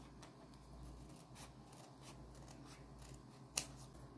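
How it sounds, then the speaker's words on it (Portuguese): Scissors snip through paper while cutting out an Easter candy holder, soft close rustling and a few quiet cuts with one sharp click near the end. "eu vou cortar mais para dentro um pouco, ó. Vou cortar menorzinho."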